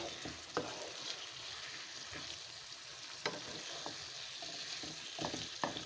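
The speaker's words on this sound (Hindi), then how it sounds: "ज़रा आग मैंने थोड़ी सी बढ़ा ली है ताकि इसको मैं प्रॉपरली भून लूँ" Liver sizzles and fries in a pan over raised heat, with a soft continuous crackle and occasional louder stirring scrapes, close but fairly quiet.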